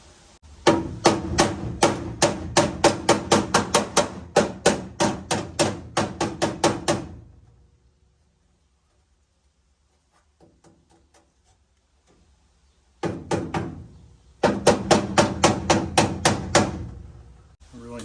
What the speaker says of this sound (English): pound that in just a bit, maybe.